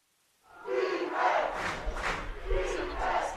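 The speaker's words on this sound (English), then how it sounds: "Ashland crowd getting loud" Home football crowd at an Ashland high school game against Marshfield roars loudly and steadily after a brief quiet start, with a sustained wall of shouting and cheering.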